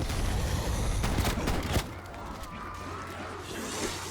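A frag grenade thrown and exploding in Call of Duty: Black Ops Cold War: a loud, dense blast with rumbling debris lasts almost two seconds, then settles into quieter game ambience.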